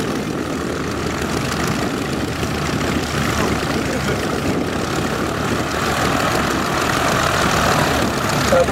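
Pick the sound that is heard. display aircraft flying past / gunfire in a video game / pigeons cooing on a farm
display aircraft flying past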